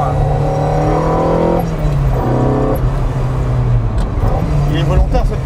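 From inside a Ferrari 308 GTB with its 3-litre V8, the engine hums and rises steadily while driving, loud and constant under ongoing conversation.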